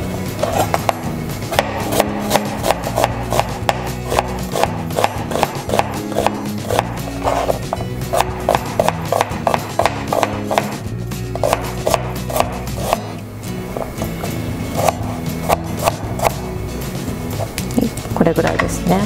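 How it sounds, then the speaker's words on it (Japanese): A knife thinly slices an onion for miso soup on a cutting board, tapping out quick, steady, even chops over a soft musical backing. "続いて味噌汁に使う玉ねぎを薄切りにします。"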